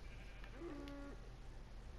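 A single short sheep bleat from the Minecraft modpack FantasyCraft, faint and brief against a steady low background hum.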